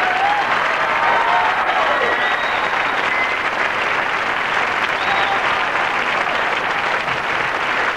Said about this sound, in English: Let's have a real cheer for them.